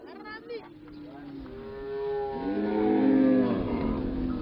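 Karamojong cattle in Karamoja, Uganda, low and drawn out, with one long, swelling moo that grows loudest in the second half over a soft earlier call.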